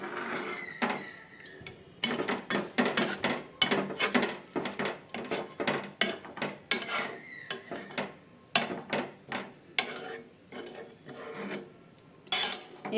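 A utensil scrapes and stirs thick rabri in a cooking pan on a gas flame, in an irregular series of close rasping strokes with short pauses, no voices.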